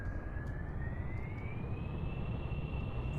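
Jet-style engines of a VTOL plane in Kerbal Space Program spool up into a steady, loud roar, with a thin whine climbing slowly in pitch as throttle increases, heard alone.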